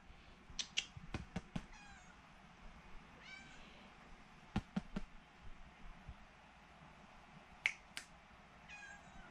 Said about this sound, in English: This little cat, or Tater, is whining a little bit because she's still young